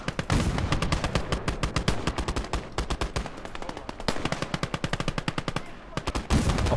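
Assault guns in the game Last Grenadier fire dense, rapid bursts of loud automatic gunfire, cracks overlapping in a sustained clatter with short gaps between volleys.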